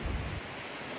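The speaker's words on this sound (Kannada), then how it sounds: "ಅಲೆ ಎಲ್ಲ ಫುಲ್ ಹತ್ರ ಬರ್ತಾ ಇದೆ" Surf at Panambur beach rolls in with a brief low surge of breaking water, then settles into a steady broadband wash of foam and wind, with no voices.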